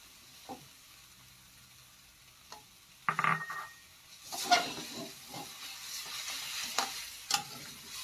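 Instant noodles are stir-fried in a pan with bird's eye chili and spring onion. A quiet sizzle runs under scattered utensil scrapes and taps, which grow busier and louder after the first few seconds. No one speaks.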